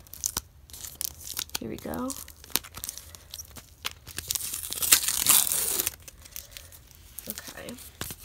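Packaging tape torn and peeled off a parcel, with ripping and crinkling sounds in several bursts, the loudest stretch in the middle, while a person speaks briefly nearby.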